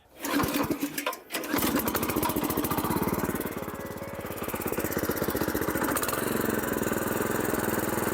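A walk-behind tractor with a rotary tiller works garden furrows in second gear, its engine chugging loudly and steadily nearby, with a brief dip near the start.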